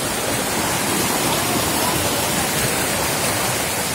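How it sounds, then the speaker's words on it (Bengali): Khoiyachora waterfall in Sitakunda, Chittagong, roars close by as a loud, dense, unbroken rush of falling water. "এই যে ঝর্ণা"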